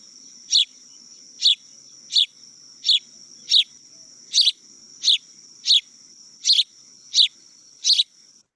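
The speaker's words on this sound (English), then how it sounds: "And this is the house sparrow." Recorded house sparrow song: about ten short, sharp chirps repeat at a steady, slightly uneven pace, each one clear and isolated against a quiet background.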